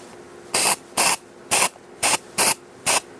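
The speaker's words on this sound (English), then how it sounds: "if I get the dry shampoo and I give it a good shake as well, and I go once" A can of dry shampoo sprays in six short, sharp hissing bursts, about half a second apart, loud and close with brief quiet gaps between them.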